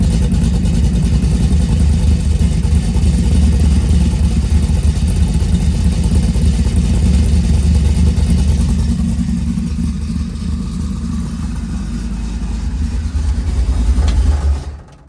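A 1946 Chevy truck's engine runs with an X-pipe exhaust, a loud, steady, choppy rumble close by that holds for most of the stretch before easing off and cutting out at the end.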